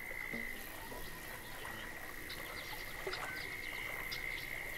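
A frog croaks in a Florida Everglades swamp in the fishing game Fishing Planet, with a steady high insect drone and scattered calls over continuous outdoor ambience.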